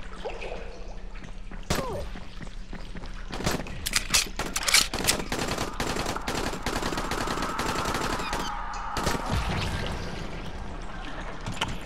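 Gunfire in the zombie game Dying Light on a custom map, with a burst of sharp shots clustered mid-clip among scattered impacts and game noise, fairly close and loud.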